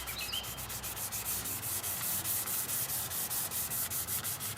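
Steady rhythmic scouring of a checked, crazed car headlight lens with an outer clear coat, rapid back-and-forth sanding strokes close up and fairly loud, continuous with no speech.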